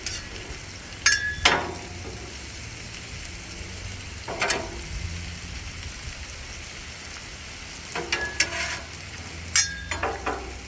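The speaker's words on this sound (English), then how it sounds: "you can hear everything starting to sizzle" Steady hiss of garlic and vegetables sizzling on a hot Blackstone griddle, broken by a few sharp clatters of a utensil scraping and tossing.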